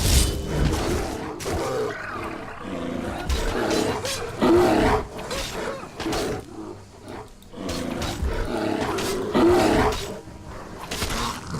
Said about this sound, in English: A bear attacking a goat.